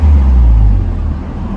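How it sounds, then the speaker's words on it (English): A car's engine, on a car checked out for purchase and fitted with a PSI gauge, revs hard against its rev limiter. It gives a loud, close, low droning roar that holds steady and then wavers slightly as it bounces off the limit. "A rev limiter, no wonder it stopped."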